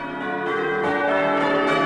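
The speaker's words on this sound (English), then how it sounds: "Beautiful church bells." Church bells ring out in Stowmarket town centre at Christmas time, with a sustained, rich metallic peal and overlapping tones that swell slightly louder as it goes on, with no voices.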